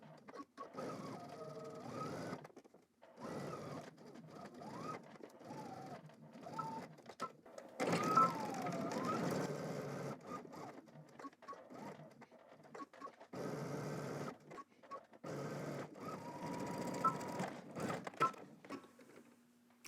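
A sewing machine stitching a utility jacket seam, running in short quiet bursts with brief pauses between them, fairly close by, with no talk.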